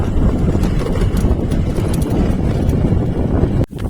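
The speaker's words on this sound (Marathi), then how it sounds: "समोर एक घोडा झाला." Steady clip-clopping of horse hooves on a road, mixed with gusty wind noise, ending in a brief sharp break.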